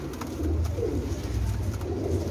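Parwazi flying pigeons coo softly in low, rolling murmurs, close by, with a faint background hiss, in Jhelum, Pakistan.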